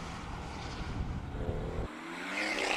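A BMW M2 with a six-cylinder turbo engine races flat out toward the finish of a hill-climb course in Cape Town, its engine roaring at a distance with a shifting pitch as it passes, then a brighter surge at the end.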